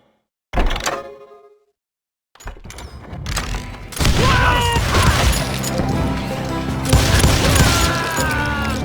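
Heavy gunshots and booming impacts from hired guns ring out in the Western shooter Call of Juarez Gunslinger, one sharp blast followed by silence, then sustained crashing fire layered with game music and effects.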